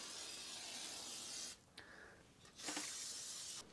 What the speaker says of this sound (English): Let's just give her some WD-40.